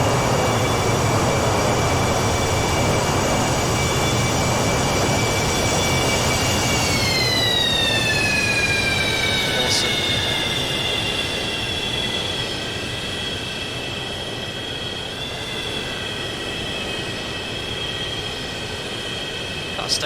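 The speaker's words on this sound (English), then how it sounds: "So reverses are up." Thrust reversers roar on a FlyJSim Boeing 727 landing in X-Plane 11, a loud steady engine rush with a whining tone that drops in pitch partway through and then settles as the aircraft slows.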